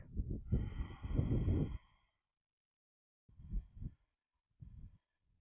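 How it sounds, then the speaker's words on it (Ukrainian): Slow breaths during a guided breathing exercise: one long, noisy exhale or inhale of nearly two seconds, then a pause and two shorter, softer breaths. All of them are close and audible, with no talking. "Вдих. Видих."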